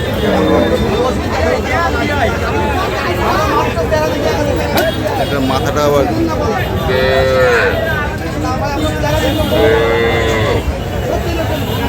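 Cattle, including dairy cows and calves, moo several times amid a busy crowd of talking voices at the Kaharol livestock market, with a steady outdoor hubbub and livestock noises nearby.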